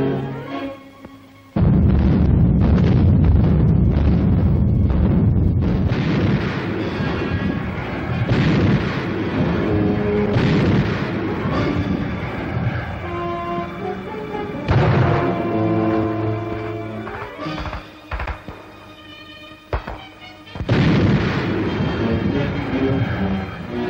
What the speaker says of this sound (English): Shells from a mountain battery here are pounding a roadblock.